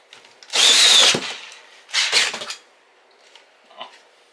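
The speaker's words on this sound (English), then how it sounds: "Now I need to drill through the siding on the outside as well." A power drill fitted with a hole saw cuts through exterior house siding during a Mr. Cool unit installation, in two loud bursts with a pause between, followed by faint knocks and rattles.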